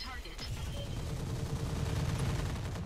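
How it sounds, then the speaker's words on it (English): PPCs and machine guns fire in a mech combat video game, a rapid rattling stream of shots under faint voices, steady and moderately quiet throughout. "Put the PPCs, machine guns on this guy."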